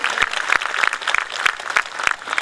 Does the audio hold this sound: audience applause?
yes